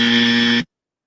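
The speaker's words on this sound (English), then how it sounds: "This deserved that I had to bring out the buzzer." A podcast sound-effect buzzer gives one loud, harsh, steady buzz lasting just over half a second, then cuts off abruptly into silence.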